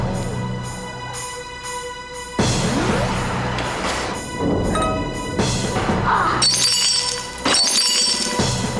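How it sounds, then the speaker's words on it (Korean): Glass in an apartment building's shared entrance door shatters, with several loud crashes and a spray of tinkling shards over roughly nine seconds, heard alone. "출입문 유리가 깨지며 파편에 베었다."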